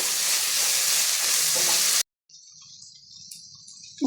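Vegetables for purple cabbage fried rice are stir-fried in a pan with mint and salt, giving a loud, steady sizzle for about two seconds before an abrupt cut to a much quieter, faint background.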